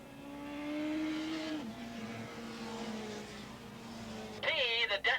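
Suzuki production motorcycles race at Willow Springs in a 1986 open stock event. Engines whine at a distance with shifting pitch, and a sharper, louder rev bursts through near the end.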